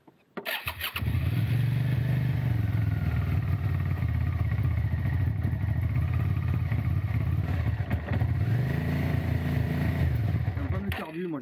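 A Suzuki SV650S motorcycle with a carburetion problem idles steadily and loudly, a continuous low engine rumble close by, briefly revving near the end.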